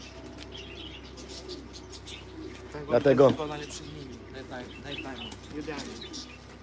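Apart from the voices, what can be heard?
pigeons cooing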